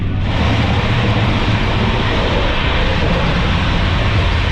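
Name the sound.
high-speed train running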